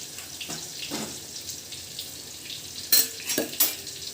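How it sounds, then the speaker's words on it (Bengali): Paneer frying in a pan for shahi paneer with a little water poured in, a steady sizzle broken near the end by sharp hissing bursts as the water hits the hot oil. "দেখো অল্প একটু জল দিয়ে দিলাম"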